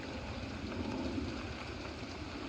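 Rain falls steadily outdoors near a drainage stream and culvert, a constant close wash of noise without distinct drops standing out.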